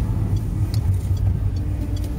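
A Carentine Transport diesel truck pulls away from a roundabout with a steady, loud low rumble that holds at an even level throughout, with no voices over it.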